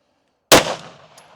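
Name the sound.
pistol shots fired at a target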